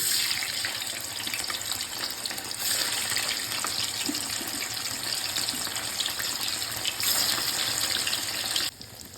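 Paneer cubes hit hot oil in a kadai, giving a steady, loud hiss and sizzle that carries on without a break and drops off sharply near the end.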